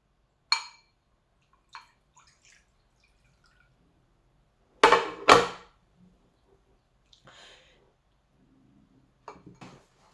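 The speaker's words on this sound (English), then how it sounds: "Then pour the water out." Water is poured out of a cooking pan on an induction stove. Scattered drips and splashes are followed by two loud, close bursts of pouring and a few smaller trickles and drops near the end.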